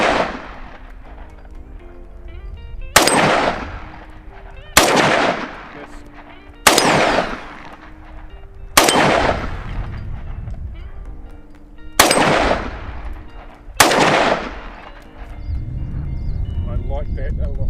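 A VZ-58 Sporter Carbine rifle in 7.62x39 fires six loud, close single shots. They come at uneven intervals of roughly two seconds, and each crack rings out into a decaying echo.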